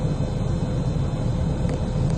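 A newly replaced blower motor in a 2012 Honda Fit runs with a steady, even whir and low rumble of moving air, continuous and close with no voices.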